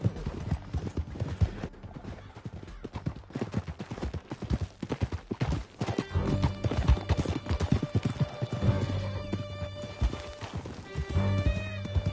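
Horses gallop hard in Red Dead Redemption 2. Rapid, rhythmic hoofbeats run continuously and close by, with a whinny and scattered gunshots over tonal background music.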